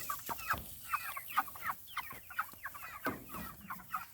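Baby meat chickens on new grass, a flock giving soft repeated clucks and chirps in an irregular patter, fairly faint and close, with no talk.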